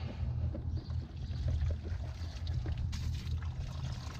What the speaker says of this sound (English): Now the water's pretty much running free through there.